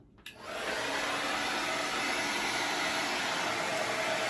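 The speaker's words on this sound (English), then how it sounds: "I have my blow dryer set on hot, and it's on high" A hair dryer on its hot, high setting switches on and runs at full power, a loud, steady roaring whoosh of blown air that holds constant.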